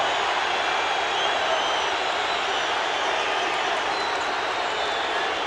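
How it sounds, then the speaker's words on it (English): A riled-up crowd in an NBA basketball arena, a steady, dense roar of many voices with clapping and cheering that holds at a loud level throughout. "Now the crowd is riled."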